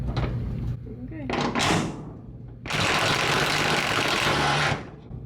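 Pneumatic impact wrench on a 1957 Chevy with rust damage, a loud, sustained burst of buzzing rattle after a few shorter clatters, with people talking nearby.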